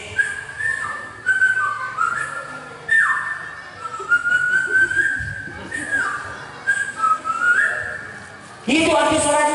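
During a sermon, a preacher imitates whistling with his voice, giving a string of short, bright whistled tones in rising and falling sweeps. His talking runs between and over the whistles.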